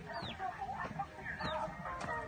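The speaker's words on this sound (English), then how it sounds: "First we'll go check the chicken," Chickens and chicks at a home cluck and squawk softly in a series of overlapping, moderately distant calls over faint background noise.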